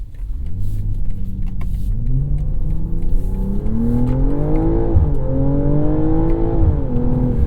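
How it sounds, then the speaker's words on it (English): A 2025 BMW M340i accelerating hard in sport mode, its engine note boosted by artificial sound, rising steadily in pitch with shifts and a loud, sustained droning growl heard from inside the cabin. "I understand why you'd pipe in engine noise and have kind of an artificial sound in sport mode"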